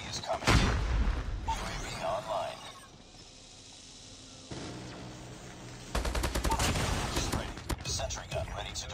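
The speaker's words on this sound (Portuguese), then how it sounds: "E a HBR é uma arma boa, velho. Tanto que ela tem força suficiente pra varar o concretinho ali." HBR rifle fire in Call of Duty Mobile comes in sharp bursts of shots with shattering impacts, separated by a quieter lull, with voices talking over parts of it.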